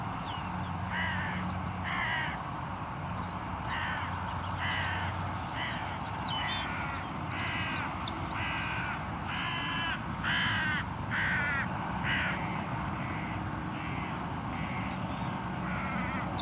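Hooded crows caw repeatedly in short bursts, some near and some farther off, over a constant rumble of distant traffic.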